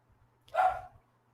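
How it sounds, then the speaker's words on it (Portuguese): A single short dog bark in the background, faint and distant, heard alone. "Vai ter um cachorro, gente, de fundo, infelizmente."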